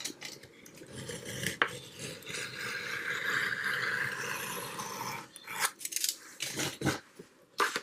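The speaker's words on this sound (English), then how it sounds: "I bought it to cut up, so I'm cutting it up." Scissors cutting up an old book for a fairy journal: a long continuous slicing rasp through paper, followed by several sharp separate snips and rustles, close and fairly quiet with no talking.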